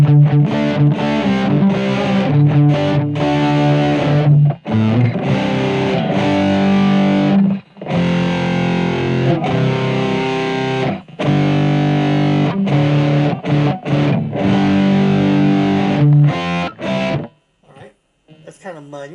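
An electric guitar played through a compressor patch on a BOSS eBand JS-10, loud sustained chords and single notes in phrases broken by short gaps, with a few faint trailing notes at the end.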